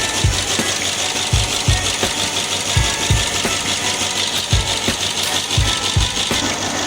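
A running 1963 Studebaker Champ engine with a lifter tapping, a loud close idle carrying a sharp, regular ticking knock that repeats through the whole stretch.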